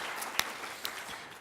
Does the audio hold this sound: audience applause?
yes